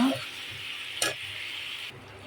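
Potatoes and fish roe stirred and fried in a pan, a soft steady sizzle with a single sharp scrape of the spoon midway, fairly quiet.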